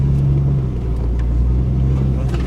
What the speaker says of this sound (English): That's the beauty of a small four-wheel drive.